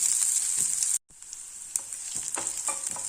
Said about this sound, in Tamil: வெங்காயம் வதங்கட்ட கொஞ்சம் நான் காணும்